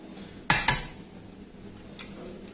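A utensil clanks against a bowl as eggs and fluid are mixed for pumpkin pie bread pudding, two sharp knocks close together followed by a softer third a moment later.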